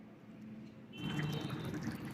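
Mustard rohu fish curry simmers in a pan on a gas stove, a steady close bubbling and sputtering that swells louder after the first second and keeps going alone.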